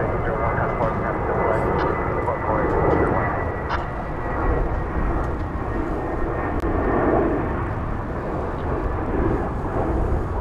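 A jet airliner takes off at DFW Airport, a broad steady roar that rumbles and swells slightly, heard from a distance across the field throughout.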